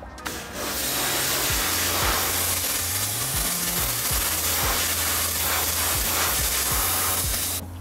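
A pressure washer sprays water to rinse citrus pre-wash off the paint of a Mazda MX-5, a loud continuous hissing spray that starts abruptly and stops at the end, with a low motor hum beneath.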